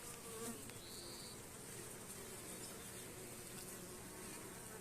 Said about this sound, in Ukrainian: на цій троянді завжди багато бджіл